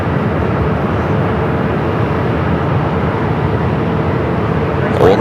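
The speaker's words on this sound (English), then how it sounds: "Old America West, A319 rolling down at 7 left." Rumbling jet roar of an America West Airbus A319 accelerating down runway 7 left at Phoenix Sky Harbor, a steady loud broadband drone throughout with a brief swell near the end.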